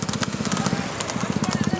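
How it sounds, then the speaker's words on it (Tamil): Horse hooves beat out a quick, regular clip-clop at a village horse race in Viralimalai, close and fairly loud, with people talking excitedly over the galloping rhythm. "குதிரை குதிரை"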